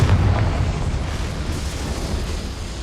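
A Confringo fire spell blast in Hogwarts Legacy, heard as a loud, sustained rumbling explosion with deep booming low end that stays dense and roaring for about three seconds, with no speech over it.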